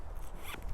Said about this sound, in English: you can put it in there and zip it up a little bit